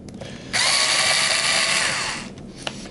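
A power drill backs out screws from the relocker on a SecuRam SafeLogic safe lock, one steady high whine running for about a second and a half, then winding down, loud and close with no talk.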